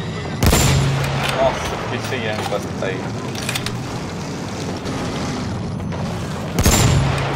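Gunfire in the video game Battlefield 1, heard as two sharp, loud shots near the start and the end over a busy background of battle noise, with someone speaking between them.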